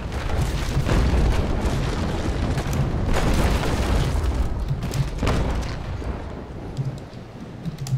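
Heavy ship cannons thunder in a Naval Action sea battle aboard a brig, deep rolling booms overlapping into a continuous rumbling barrage that eases off toward the end.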